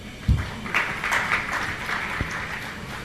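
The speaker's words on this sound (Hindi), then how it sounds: "तालियों के माध्यम से हम इनका अभिनंदन करें।" An audience at a religious discourse gathering applauds to honour a doctor, a steady, moderately loud wash of clapping from a crowd that holds through the clip after a brief thump.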